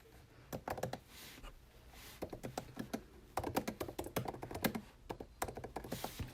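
Keys clatter on a computer keyboard in quick, uneven bursts of taps with short pauses between, close by but soft, with no speech.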